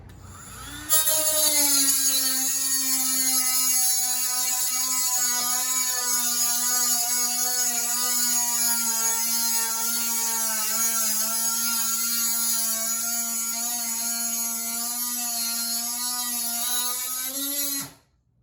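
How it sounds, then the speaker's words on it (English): A rotary grinder steadily grinds a rub rail insert on a Honda Aquatrax jet ski, one loud, even high whine held for about seventeen seconds before it cuts off, close and without talk. "So I'm going to grind this down just a little bit, because I don't want to have any issues."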